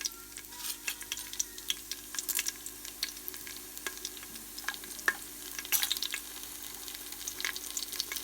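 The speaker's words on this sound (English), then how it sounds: "I love that sizzling sound." Steady crackling sizzle of whole spices such as cardamom and cinnamon frying in hot oil in an Instant Pot, with scattered pops and light clicks over a constant soft hiss.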